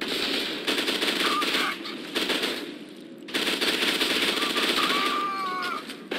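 Loud rapid automatic gunfire rattles out in several bursts separated by brief pauses in the video game F.E.A.R. 2, played on Hard, with a voice briefly heard.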